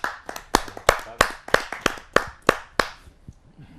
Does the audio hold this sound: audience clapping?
yes